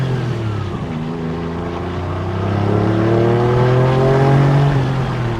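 A 1996 Porsche 911 (993) Turbo GT2 engine accelerating through third gear on an open road, a loud continuous rising engine note climbing steadily in pitch with no talking.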